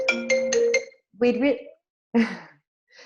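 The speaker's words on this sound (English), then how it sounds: "There's always got to be that one phone call, doesn't there?" A phone rings during a live business presentation in a finance panel session, with a few short harmonic ring bursts in a quick rhythm, then a pause and one more chirp, with voices breaking in between.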